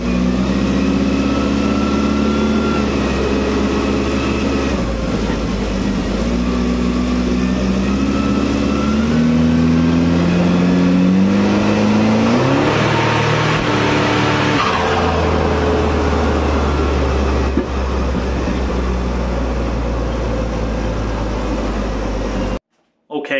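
A Commer 2.3 turbo fitted with a DIY in-tank EFI fuel pump drones loudly and close on a road test, its revs climbing and falling with a rising surge midway before the sound cuts off abruptly.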